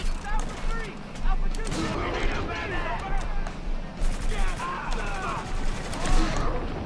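Bursts of gunfire from the Spec Ops: The Line video game crackle in clustered volleys across the whole stretch, moderately loud, with speech running underneath.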